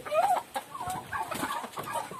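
Chickens cluck and chatter nearby on a Philippine farm, in a loose run of short clucks and a few drawn-out squawky notes at a moderate, somewhat faint level.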